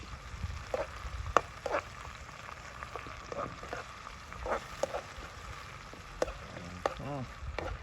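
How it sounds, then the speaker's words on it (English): Vegetables stir-fry in hot oil with a soft continuous sizzle, broken by repeated clinks and scrapes of a spoon against the pan, nearby and moderately quiet. "Nice little stir fry going on here guys."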